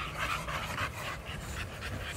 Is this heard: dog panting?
yes